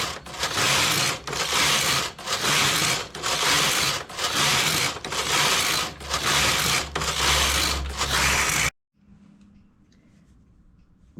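A knitting machine knits a belt, its carriage swished back and forth in a steady rhythm of loud, close rasping passes about one second each, then stopping abruptly into near silence.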